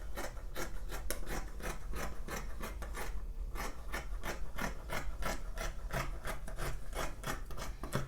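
Scissors cut through suit-pant fabric along the trouser bottom in a steady, rhythmic run of close, dry snips and rasps, with no talking.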